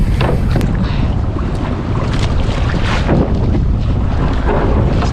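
Paddling a small fishing boat toward shore on a choppy sea, with steady loud wash of waves and water, wind buffeting the microphone and occasional splashes from the paddle.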